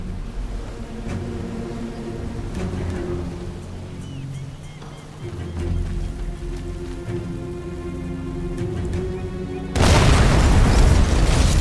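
A bunker blowing up in the video game Sniper Elite 5: a sudden loud broadband blast near the end, following a stretch of low rumbling game ambience and music.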